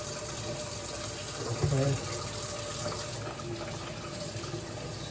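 Tap water runs steadily at close range while hands are washed at a kitchen sink during cooking, a continuous broadband gush with a brief louder splash and a short spoken word partway through.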